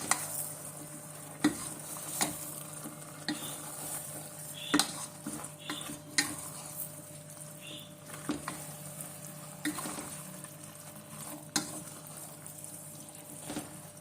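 Okra stew with squeezed lemon being stirred in a pot, with soft intermittent scrapes and clinks of a spoon against the pot over a faint steady background hiss, close and fairly quiet.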